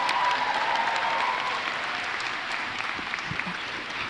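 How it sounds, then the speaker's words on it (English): Applause from an audience at a college baccalaureate convocation, a dense steady clapping that gradually fades, heard alone without speech. "please give them a round of applause"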